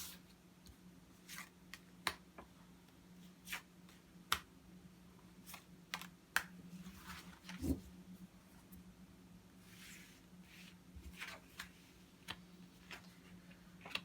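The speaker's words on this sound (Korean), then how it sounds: "한번 카드 한번 뽑아볼게요." Tarot cards being drawn and laid down during a reading: scattered soft ticks, snaps and card flicks spaced irregularly across a quiet room, with a low steady hum underneath and no talking.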